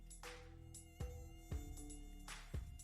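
Mosquitoes whine in the humid Amazon jungle in Bolivia, a thin continuous high-pitched buzz close by, with a few soft thumps breaking in.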